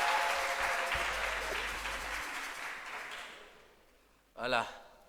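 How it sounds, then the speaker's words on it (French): Church congregation clapping and cheering in praise of the Lord, a dense, sustained burst of applause that gradually fades, followed by a short loud vocal exclamation near the end. "est-ce qu'on peut acclamer le Seigneur?"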